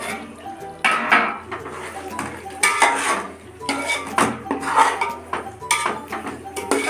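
Metal clanks and scrapes from a cooking pot of chicken biryani as a lid is set on it, giving several close clinks and knocks of cookware in a home kitchen.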